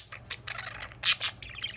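A budgie chirps and tweets in quick bursts, close by, with a few sharper high calls near the end.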